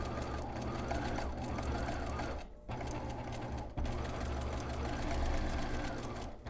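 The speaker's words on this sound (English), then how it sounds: "we're going to put the right sides together, and we're going to sew along this front edge here" A sewing machine sews the front edge of a fabric face mask with right sides together, a close, continuous rumbling whir that dips briefly twice but keeps running throughout.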